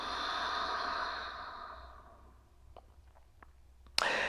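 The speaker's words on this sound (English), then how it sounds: "So everyone take a deep breath. And one more. And exhale. Exhale once more." Long, deep exhale during pranayama breathing practice, a close, soft airy rush that fades gradually over a couple of seconds, followed by faint small clicks and a brief sharp intake.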